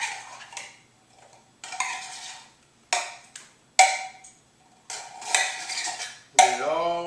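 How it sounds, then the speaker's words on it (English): A knife scrapes thick condensed soup out of metal cans into a bowl, making a series of sharp metallic scrapes and clinks in separate bursts with short quiet gaps between them, close up and alone. "you want to empty the contents of your soup cans."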